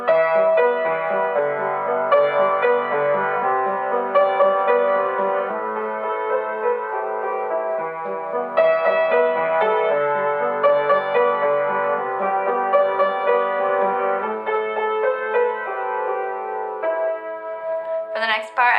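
Solo piano plays the melody of a song, a flowing line of close, clear notes over soft low chords, with no voice.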